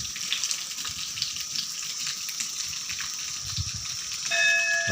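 Water runs steadily at a river bathing ghat used for men's bathing, a close, continuous rushing wash, with a brief ringing tone near the end.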